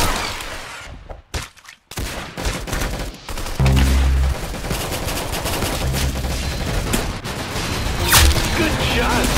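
Rapid bursts of gunfire and explosions from the Roblox shooter game Arsenal, loud and dense across the whole stretch, with brief gaps and a heavy boom partway through.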